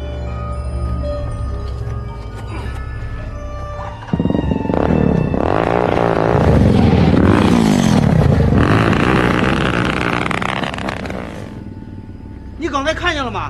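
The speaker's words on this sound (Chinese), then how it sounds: "那个摩托车差点撞上你。" A motorcycle roars past at close range, its loud engine surging for several seconds before fading away, with voices heard around it.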